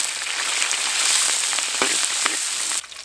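Ginger and scallion segments frying in hot oil in a wok, a bright, loud sizzle with scattered crackles and pops that cuts down sharply near the end.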